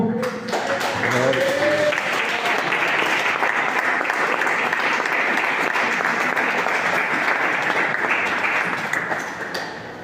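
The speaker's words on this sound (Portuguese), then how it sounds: "Vamos aplaudir a palavra do Senhor." A church congregation breaks into sustained, full applause during an evangelical service, dense clapping filling the room for about ten seconds after a brief voice at the start.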